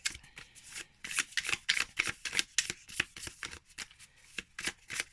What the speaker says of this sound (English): I think that can be remedied after enough time spent shuffling them